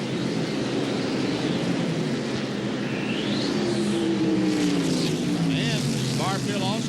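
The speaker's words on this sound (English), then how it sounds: "Back there, the Caterpillar car for David Green" NASCAR stock cars roar around a track during the 1996 Autolite Platinum 250, a steady, dense engine drone with rising and falling passes, under continuous race commentary.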